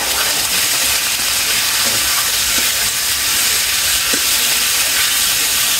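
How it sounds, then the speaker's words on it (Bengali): Onions sizzle loudly in a hot pan, a steady bright hiss that fills the whole stretch, with faint scattered clicks as vegetables are added and no talk. "আমার পেঁয়াজ ভাজে গেছে সবজি দিয়ে দিই"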